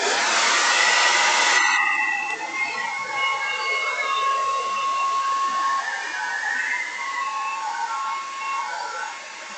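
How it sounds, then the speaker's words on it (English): A blow dryer runs outdoors with a loud, steady whooshing roar that drops to a slightly lower, continuous blowing hiss after the first couple of seconds. "I do have the blow dryer out here."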